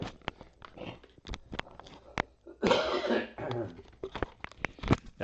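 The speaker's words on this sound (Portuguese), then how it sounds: "Já começou aquela tossinha chata." A person coughs close to the microphone, with a short burst of harsh coughing in the middle and scattered clicks and small throat noises around it, fairly quiet overall.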